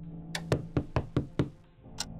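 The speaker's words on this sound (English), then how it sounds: "There's a knock on the door." Five firm knocks on a door in a quick, evenly spaced series, close and loud, followed by a fainter knock after a short pause.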